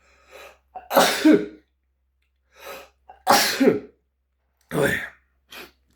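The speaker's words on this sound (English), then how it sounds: "I'm about to sneeze." A sneeze bursts out after a quick intake of breath, followed by another sharp sneeze and a couple of short, loud exhalations up close.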